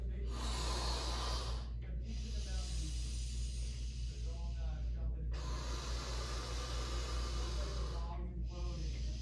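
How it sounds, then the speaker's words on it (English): Slow, steady breaths are exhaled into a balloon during a core activation exercise, long breathy hisses repeating about every three seconds with brief inhale gaps between, close and alone over a low background hum. "you're gonna inhale into the nose and then breathe out again"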